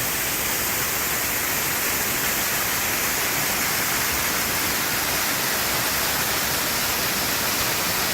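Bond Falls in Michigan's Upper Peninsula roars steadily from very close range, a dense, broadband rush of falling water that stays constant and loud for the whole stretch with no voices.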